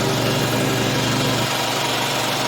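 An oil bath air compressor runs up close, a dense, steady mechanical drone with a low throbbing pulse that stays even and loud the whole time.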